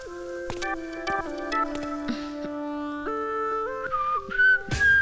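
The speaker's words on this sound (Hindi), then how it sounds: "सीटी क्यों बजा रहे हो" Someone whistling a lively tune, clear and close, with pitched notes that step up and down in quick phrases and a few sharp breathy accents, alone with no talk.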